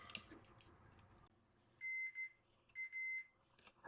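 A multimeter beeping during a continuity test on a circuit trace, two short bursts of high steady tone close by, separated by brief quiet amid faint rustling.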